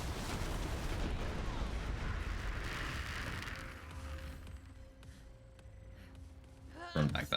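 Booming red explosions from killing Kraken in a looter-shooter game with a DoT Moze build, a dense rumbling barrage that thins out before a sharp burst near the end, with voices mixed in.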